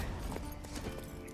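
Horse Roach's hooves clip-clop steadily in a video game, a continuous rhythmic trot over ground with faint background game ambience and no talk.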